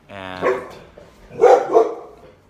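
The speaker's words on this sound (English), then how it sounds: "that is my dog barking" A pet dog barks a few times close by, with a whimpering whine before loud, sharp barks and a single spoken word at the start.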